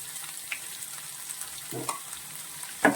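Chopped ginger and garlic sautéing in a pan, a soft steady sizzle with a few faint scrapes and a louder stirring clatter near the end, no talking.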